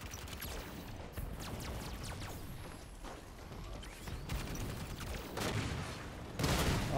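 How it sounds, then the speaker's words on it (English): Rocket launches and gunfire in a Halo 5 Warzone match, a dense run of sharp blasts and shots at moderate distance, with a heavier explosive burst near the end. "Heard the rockets"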